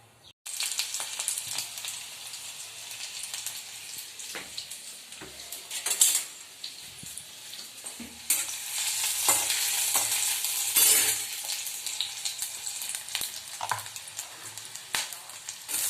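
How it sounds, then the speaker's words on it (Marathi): Vegetables and onion stir-frying in oil in a wok for fried rice, a steady sizzle broken by frequent scrapes and clinks of a utensil against the pan, close and fairly quiet, with no voices. "सो हे फक्त फ्राय करायचे तेलामध्ये भाज्या"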